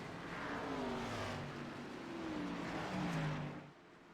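Race cars roll through a pace lap on the long backstretch at Talladega at night, a steady blend of engines whirring and humming at moderate distance, with a slight surge near the end before easing off.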